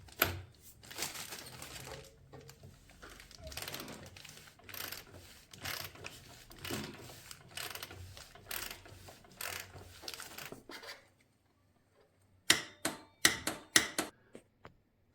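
Series of close mechanical clicks from a torque wrench ratcheting while tightening a bicycle bottom bracket to 35 newton metres, steady strokes for about ten seconds, a pause, then a few sharper clicks.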